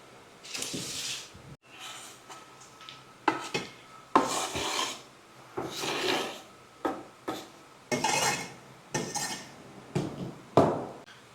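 Seasoning being stirred into curried conch in a metal pot, a series of scraping, rasping strokes of a spoon against the pot in uneven bursts, close and fairly clear with no talk.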